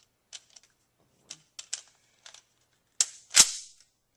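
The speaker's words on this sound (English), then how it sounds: "I'm just going to load it up with some dummy shells that I bought off Gunbroker." Dummy rounds loaded into an M1 Garand rifle, heard as a few sharp metallic clicks and then a louder clack near the end, with quiet gaps between them, close by.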